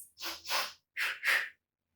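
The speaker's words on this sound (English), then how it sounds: "inhale twice through the nose and exhale twice through the mouth." Two quick sniffing inhales through the nose followed by two breathy puffs out through the mouth, close and clear, with no talking.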